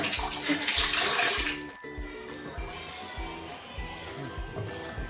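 Tap water runs steadily while eggplant is rinsed by hand in a sink, loudest in the first second and a half, then a lower, continuous splashing trickle with intermittent background music underneath.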